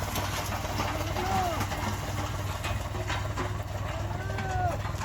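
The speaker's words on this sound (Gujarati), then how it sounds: "આ તો જેસીબી તો હવાનું ચાલુ છે" A JCB excavator engine hums steadily at a farm, a continuous low drone with a person talking over it and a few bird calls cutting through.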